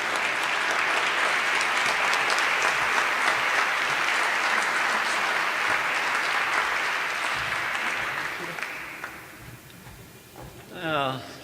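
An audience claps to welcome a speaker to the podium at the Kresge Eminent Artist event honoring Bill Rauhauser. Sustained, full applause thins and fades after several seconds, and a voice begins briefly at the very end.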